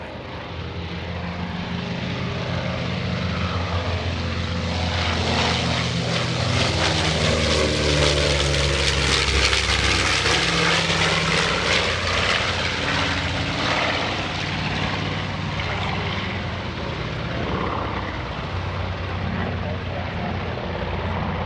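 A B-25 Mitchell bomber flying past at an airshow, its piston engines giving a loud, steady propeller roar that swells and holds for the whole pass, close and dominant.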